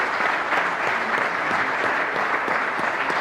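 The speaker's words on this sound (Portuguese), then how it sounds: "Uma salva de palmas." Audience at a handball congress bursts into dense, sustained applause, many hands clapping together loudly and evenly throughout the short stretch, with no talk above it.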